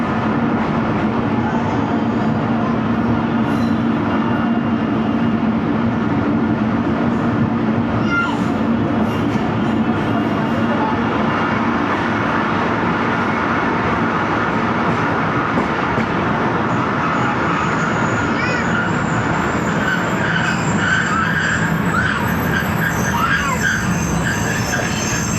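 Jaffar Express passenger train braking into Mian Channu railway station, a loud continuous rumble of wagons with squealing wheels and rail noise rising in pitch toward the end, steady and close throughout.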